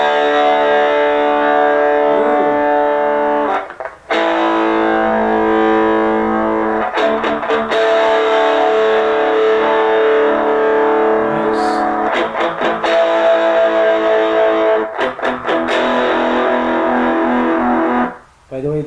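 Sustained electric guitar chords through a Kokko Distortion pedal, with no reverb, ring out loud and saturated, with a few brief breaks between strummed passages.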